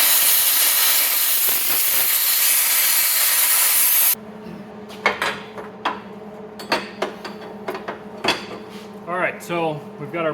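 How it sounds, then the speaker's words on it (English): A cutting torch roars steadily through steel plate on an S-10 pickup frame, a loud continuous hissing rush that cuts off abruptly, followed by scattered metallic clanks and knocks. "So we're going to clamp this to the frame and now torch this section out too."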